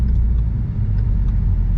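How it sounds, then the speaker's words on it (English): A Ford Mustang EcoBoost with a six-speed manual accelerates hard, its engine a loud, steady low rumble that holds without a break. "Let's do a little acceleration here."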